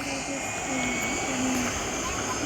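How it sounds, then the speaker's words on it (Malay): Jet aircraft engine in the Roblox video game, a steady whining drone with a sustained high hiss and a faint repeating tone, continuous at moderate level throughout. "kapal terbang jet"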